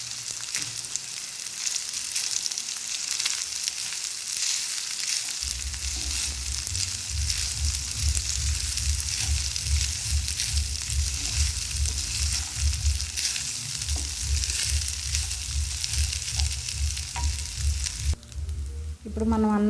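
Yellow rice (pulihora) being mixed in a hot pan, a loud continuous sizzle and hiss with repeated scraping strokes of a spoon through the rice, close up and steady throughout.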